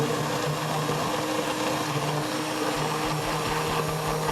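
An immersion blender whirs steadily and loudly through cooked kabocha squash, its motor drone running continuously with slight changes in pitch as it churns.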